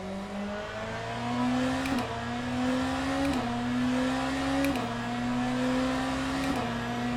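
A hypercar engine in the Le Mans Ultimate racing game revs with a flat, droning tone, climbing through the gears with a brief dip at each shift about every second and a half, steady and loud, with no talk.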